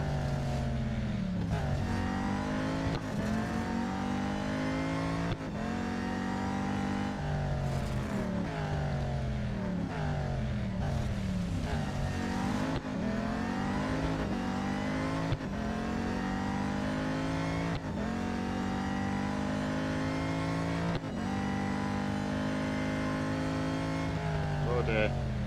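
Race car engine in the mobile racing game Real Racing 3, revving high and dropping repeatedly through gear shifts and corners, loud and continuous, with someone commentating over it.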